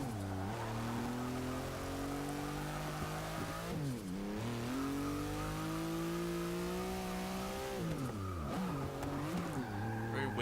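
Engine of a 1963 Volkswagen Beetle in Forza 6, modified for extreme power, revving hard through rising gear pulls with shifts and brief dips, alongside tire squeal, loud and steady with no talk.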